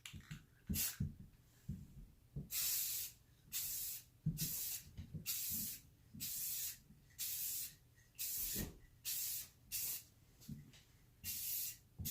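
Aerosol can of VHT Nightshade tint sprayed in a final coat onto Infiniti G35 tail lights: about a dozen short hissing bursts, each roughly a second long with brief pauses, close and steady, with light handling clicks between.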